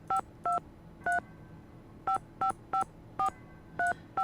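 A cell phone is dialed in the video game Nancy Drew: The Phantom of Venice. About ten short, clear touch-tone beeps come in uneven bursts, close and alone with no other sound.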